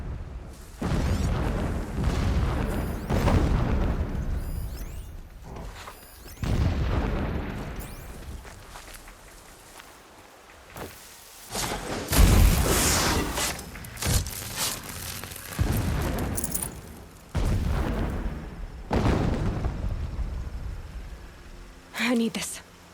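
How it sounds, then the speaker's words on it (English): Distant explosions in the video game Horizon Zero Dawn Remastered boom repeatedly as muffled bursts and rumbles, with in-game speech over and between them. "Explosions in the distance."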